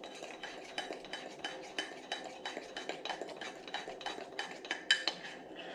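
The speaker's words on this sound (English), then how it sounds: "Stir that up really good. Make sure you get that egg mixed up." A spoon stirs chocolate mug cake batter with a raw egg inside a mug, giving a quick run of close, rhythmic clinks and scrapes against the mug's sides.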